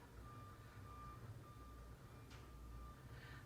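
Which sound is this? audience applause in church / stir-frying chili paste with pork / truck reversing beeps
truck reversing beeps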